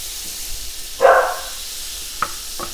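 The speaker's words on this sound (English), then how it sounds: "we're gonna place a large pan over medium to medium high heat, and we're gonna melt 2 to 3 tablespoons of butter" Two to three tablespoons of butter melt in a large pan over medium to medium-high heat, giving one short, close sizzling burst that fades back to near quiet, with a few faint clicks afterward.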